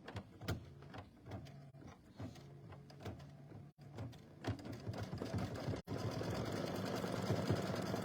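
A sewing machine, started with a foot pedal while stitching a mug rug, hums into action and runs steadily at close range, its mechanical whir filling the second half after a few brief clicks and stops.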